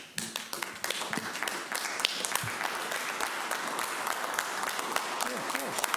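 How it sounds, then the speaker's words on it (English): Firefighters clap at a city commission meeting, a sustained round of applause from a group in a large room, mixed with some talking. "Firefighters back there clapping away."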